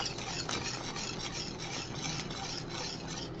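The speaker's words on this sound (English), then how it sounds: "all I'm going to do is I'm going to keep whipping it, stirring it, folding it" Alfredo sauce being whipped, stirred and folded in a pan for chicken Alfredo, a steady close scraping and rubbing that continues without pause, with no talking.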